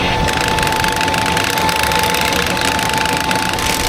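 Engine running on a farm planter during a test, a steady loud mechanical drone with a fixed whine and rattling, close and unbroken throughout.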